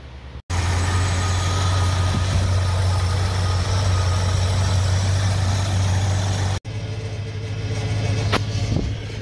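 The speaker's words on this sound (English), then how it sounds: "car's actually just running right now" A Lincoln Continental engine idles close by with a steady low rumble and constant hum, broken by two brief cuts, the second followed by a slightly rougher idle.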